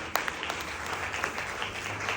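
Audience applause at an Asclepius Wellness business meeting, a dense patter of many hands clapping at moderate volume, steady for about two seconds.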